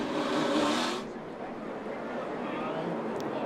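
A NASCAR Xfinity Series stock car at Richmond accelerates on scuffed tires to heat them, its engine a loud broadband roar that eases off after about a second and holds a steady drone.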